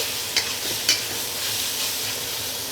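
Noodles fry in a wok over the highest flame, a loud continuous hiss with two quick crackling pops near the start.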